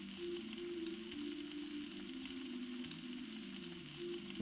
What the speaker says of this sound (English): It's so satisfying just watching them sizzle.